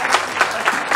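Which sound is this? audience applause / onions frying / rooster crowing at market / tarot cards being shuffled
audience applause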